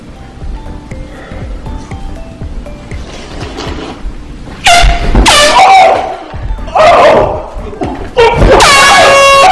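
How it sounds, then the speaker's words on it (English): A loud, blaring air horn hidden under a cushion goes off in several long blasts, harsh and close, with short pauses between them and faint voices beforehand. "I wanna place this air horn underneath the cushion"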